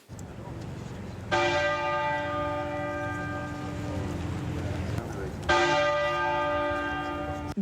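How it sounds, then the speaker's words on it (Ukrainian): Westminster Abbey's church bell tolls in tribute to the Queen, two loud ringing strikes with long humming decays under a murmur of crowd and background voices. "Дзвін Вестмінстерського аббатства лунає щохвилини, аби відзначити кожен видатний рік життя її величності."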